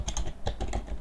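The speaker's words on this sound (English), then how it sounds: "we're going to go ahead and type in" Rapid keystrokes on a computer keyboard, close and crisp, typing an address into a web browser in a quick irregular patter.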